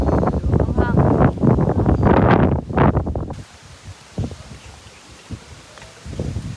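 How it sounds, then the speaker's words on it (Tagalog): Strong wind at Bulabog Beach buffets the microphone in loud, gusty roaring bursts, then drops to a quieter rustling hiss broken by short gusts, with people talking throughout. "mahangin dito."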